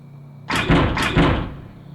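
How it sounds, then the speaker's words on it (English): A locked door in Spirit Hunter: Death Mark II is tugged in two quick rattling bursts that die away into a quiet room hum, sounding close, with no voices. "The door won't budge no matter how many times I try to open it."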